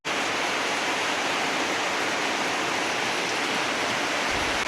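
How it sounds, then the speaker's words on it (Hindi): Heavy monsoon rain pours down in a steady, dense roar that fills the whole stretch without letup or pause, on a road between Lakhipur and Goalpara in Assam. "देखते देखते बारिश शुरू ही हो गया है"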